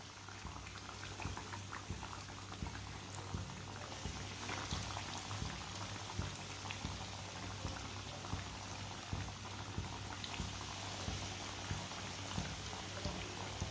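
Sandwiches fry in hot oil on a low flame, a soft, steady bubbling crackle with scattered small pops, faint and continuous with no talking.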